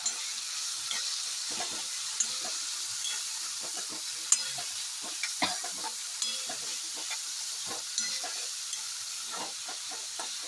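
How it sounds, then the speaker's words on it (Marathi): Soaked lentils being stirred into ridge gourd in a pan, with a soft hissing sizzle under frequent light scraping and clicking of the spoon, close and fairly quiet. "आणि ही भिजवलेली डाळ टाकायची यात. परत एकदा मिक्स करायचं."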